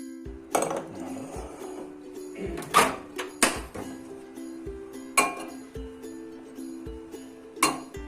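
Several sharp clinks of glass cups knocking against each other and a hard surface as they go into a microwave, spaced irregularly over a low steady hum.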